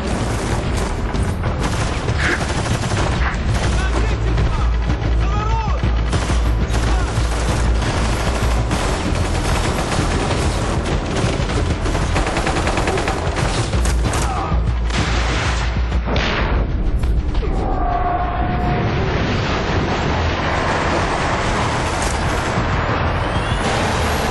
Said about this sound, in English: just for a little finale, we thought we'd give you a final little firefight